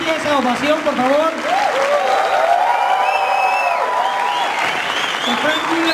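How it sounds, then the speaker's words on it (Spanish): Audience ovation at La Mole Comic Con, a sustained wash of clapping and cheering from a large crowd filling the whole stretch, with a voice calling out over the applause. "Que se escuche esa ovación,"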